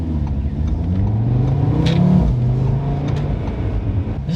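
A facelift Audi RS3's engine revving hard and loud close by, pitch climbing, dipping and swelling again as it pulls through the gears, with no talking over it.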